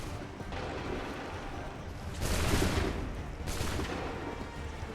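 A musket volley crackles in Assassin's Creed 3, a dense wash of gunfire that swells into two louder bursts of overlapping shots over a constant noisy battlefield roar, with no talking.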